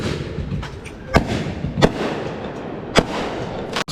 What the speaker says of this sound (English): We always will shoot a couple of warning mortars in the air to let our neighbors know it's time to come out on the front porch